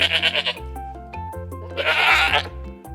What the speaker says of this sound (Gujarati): બકરી બે બે કરે,